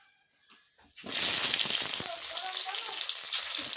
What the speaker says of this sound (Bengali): তেল একটু গরম হতেই প্রথমে আমি শিমগুলোকে ভেজে নেব